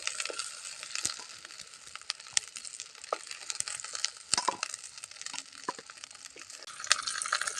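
Brinjals fry in oil for an oil brinjal curry, with a continuous crackling sizzle broken by sharp clicks and scrapes as the pieces are turned, fairly close and steady throughout.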